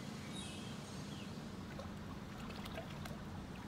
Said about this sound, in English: Oh, I love listening to the sound of like waves and all that. Little water sounds.